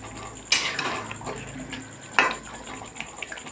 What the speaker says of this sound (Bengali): এখানে এখন নাড়ছি